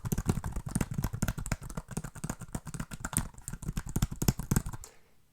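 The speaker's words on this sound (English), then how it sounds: "That is super clicky and tactile." Rapid typing on a ZAGG Slimbook Go keyboard case for iPad Pro, crisp plasticky key clicks in quick bursts, close and clear, stopping abruptly near the end.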